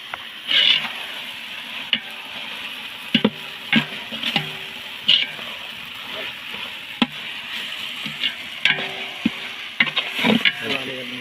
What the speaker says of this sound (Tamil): இப்போ வெங்காயம் தக்காளிலாம் நல்லா வதங்கிருச்சு